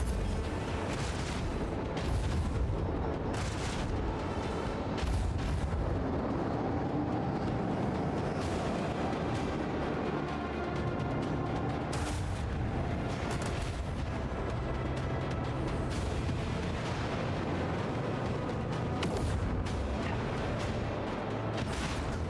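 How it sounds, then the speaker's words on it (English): Torpedo volley striking Starhawk bombers in Rogue Trader, a dense barrage of booming impacts and rumbling blasts layered over continuous loud battle noise, with sharp bursts recurring throughout. "That leaves one torpedo set left, and it's probably going to hit the Starhawk bombers"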